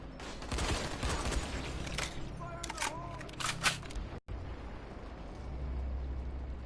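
Gunshots from a firearm in the zombie video game Dying Light, a burst of sharp cracks in the middle of the clip over a busy game soundtrack, then a brief dropout and steady background noise.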